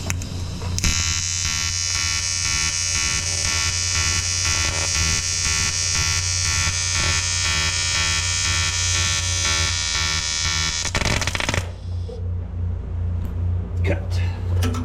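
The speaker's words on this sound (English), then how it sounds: "This is the second TIG weld, so this should go much smoother." A TIG welder runs on a motorcycle gas tank repair, a steady harsh electric buzz holding loud and unbroken for about ten seconds before cutting off abruptly into quieter scattered clicks.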